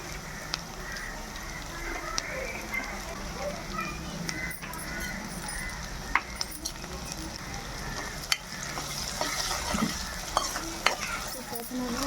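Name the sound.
onions, green chillies and ginger-garlic paste frying in a pan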